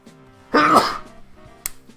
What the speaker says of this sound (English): That is the second, like, violent sneeze that I've had so far.